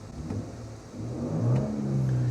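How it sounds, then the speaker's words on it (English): Toyota Tundra TRD Pro hybrid pickup, its exhaust giving a low rumbling drone that deepens and grows louder as the engine revs partway through, heard on its own. "On this TRD Pro, it has a pretty loud exhaust sound"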